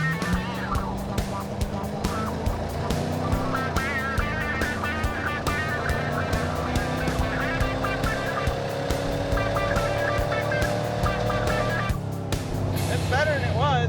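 Camaro engine idling unevenly with a rough, uneven note, a steady mechanical drone under speech with ticking pulses throughout.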